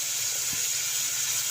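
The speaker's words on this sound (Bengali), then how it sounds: "তো বন্ধুরা তারপর দেখো এখানে আমি জল অ্যাড করে নিচ্ছি।" Water hits a hot pan of jackfruit kofta curry base with a steady, bright hiss and sizzle, close and continuous for a moment, with no talk.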